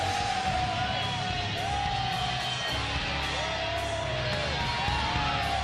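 A capacity WWE arena crowd yells and bellows in a constant roar, with rising chant-like swells and whoops repeating every second or so, loud and filling the space.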